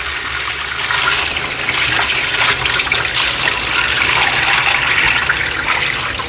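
Water pours out in a loud, steady gushing stream, being emptied so it can be replaced with fresh water, running continuously and close by with no break.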